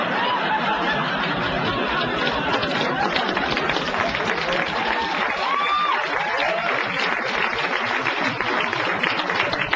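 Audience applause with snickers and chuckles, dense and steady throughout, from a live radio studio crowd reacting to a comedian's joke.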